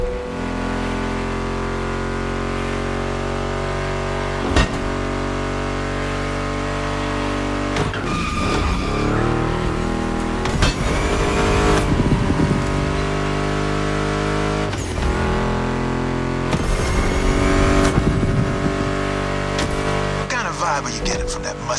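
Muscle car engines, including a Mustang GT, roar and rev during racing in The Crew Motorfest, loud and continuous with tire squeals and bursts of acceleration over driving music.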